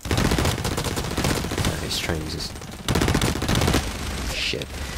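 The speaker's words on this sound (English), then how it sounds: "Yeah, it's fucking machine pistol." Machine pistol gunfire in the shooter game Blacklight Retribution comes in loud, rapid automatic bursts, broken by short pauses and a couple of brief metallic effects, with a voice talking underneath.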